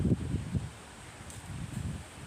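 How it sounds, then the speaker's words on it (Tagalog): Steady hot wind buffets the microphone outdoors under the sun with low rumbling gusts and a faint rustle, strongest at the start and again near the end. "Mahangin na naman. Mainit na mahangin po."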